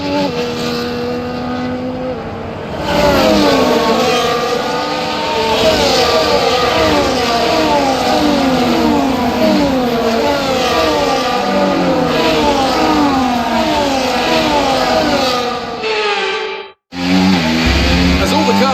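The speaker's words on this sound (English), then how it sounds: "The formation lap gets underway ahead of today's sprint." F1 race cars on the formation lap in F1 24 scream along with loud, high-pitched engines that rise and fall through gear changes. The engine noise is close and continuous, then drops out abruptly near the end before resuming.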